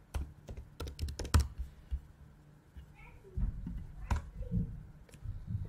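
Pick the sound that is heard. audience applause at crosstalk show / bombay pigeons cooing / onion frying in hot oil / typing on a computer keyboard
typing on a computer keyboard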